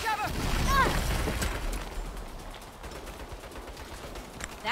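Turret gunfire in the video game Saints Row, heard as a loud burst of rapid fire with booming impacts at the start that fades into a rumbling, crackling wash of battle noise.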